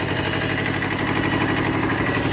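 A Kubota B5001 compact tractor engine runs steadily at a constant idle-like pace, a dense continuous drone heard close and loud throughout.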